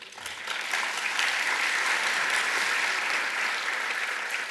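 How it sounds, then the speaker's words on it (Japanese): Shareholders at an annual general meeting clap to approve a resolution: a dense, steady wash of applause from a large room that holds an even level for the whole stretch, with no voices over it. "ご賛同いただける方は拍手をお願いいたします。"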